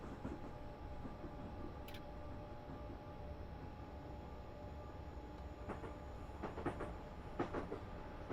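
A passenger train on the London to Brighton line rolling steadily, heard from inside as a constant low rumble and hum with a few faint clicks and knocks near the end.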